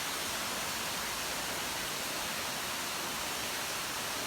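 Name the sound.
Erva Doce waterfall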